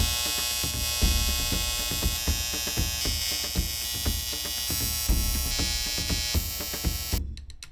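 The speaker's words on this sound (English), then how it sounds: "I could weld the new port on." A welder joins a new port onto the cylinder of a YZ500 two-stroke dirt bike, a continuous crackling buzz dotted with pops, close and steady, cutting off abruptly just before the end.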